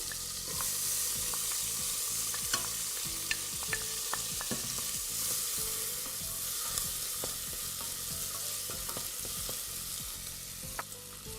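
Onion frying in margarine in a pan, a steady loud sizzle throughout with occasional stirring clicks and scrapes, no talking.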